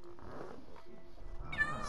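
A Minecraft cat gives a short, high meow near the end of a brief, quiet stretch of game sounds.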